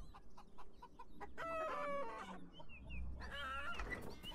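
Chickens in the Beyond Eyes video game cluck and squawk in a pen, with a few near, moderately loud calls rising in bursts over quiet background ambience and no speech.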